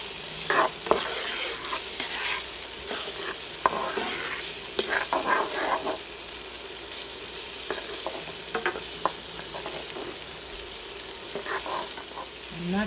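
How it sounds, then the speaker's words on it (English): Onions sauteing in a pan for Jamaican-style smoked herring, with a steady close sizzle and occasional utensil stirs and clicks running throughout, no talking. "We're going to saute this up."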